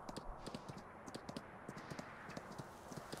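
Horse hooves walking in the Farming Simulator 19 video game, a steady, even clip-clop of four-beat steps on firm ground, fairly quiet and close, with no voices.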